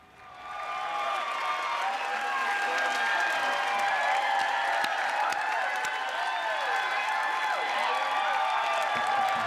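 A happy crowd of Green Party supporters on Vancouver Island cheers and applauds steadily at a 2011 Canadian federal election event, a sustained wash of clapping and voices without pause.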